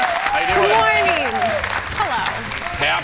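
Studio audience applauding on a morning talk show, loud steady clapping that fills the clip while a host's voice talks over it.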